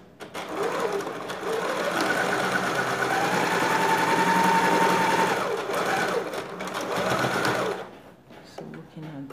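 A sewing machine stitches a dress facing seam with a steady, close mechanical whir that runs for about eight seconds, then stops abruptly.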